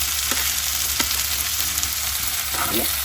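Garlic and ginger paste fries with chopped onion in a pan for a chicken do pyaza. A continuous close sizzle runs throughout, with a few soft spatula clicks and scrapes over the crackle and no talking.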